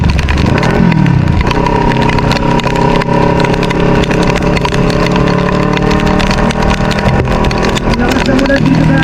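A motorcycle engine runs steadily with a low mid-range drone while riding through deep floodwater during heavy typhoon rain in Marikina, the sound continuous and close, with voices talking over it.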